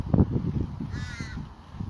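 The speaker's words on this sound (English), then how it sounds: "are the seagulls" Harsh seabird calls, a few raspy caws at close range over an outdoor background, with no voices.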